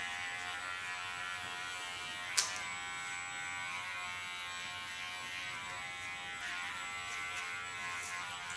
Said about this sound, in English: Hold your clipper flat on the skin.